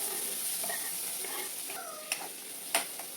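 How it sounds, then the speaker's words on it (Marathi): Chopped onions frying over low heat in a pan with cumin seeds and curry leaves, a soft steady sizzle with a couple of sharp clinks of a spatula against the pan. "कांदे छान फ्राय द्यायचे कमी गॅसवर"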